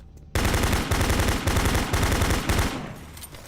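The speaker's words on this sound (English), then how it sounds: "Warning. Automated turret guns online." Automated turret guns fire in the Doom 3 video game, a loud, dense burst of rapid gunfire lasting about three seconds. Brief gaps break the rattle before it trails off into a fading echo.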